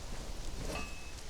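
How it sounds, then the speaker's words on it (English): In a video game, rain falls as a faint, even hiss that lasts a brief moment, with no voices over it. "Oh look, it's raining."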